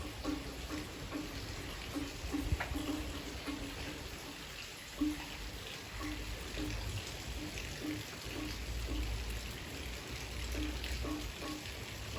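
Steady, soft rain falls in a garden setting, a continuous even hiss with occasional heavier drips, faint and distant.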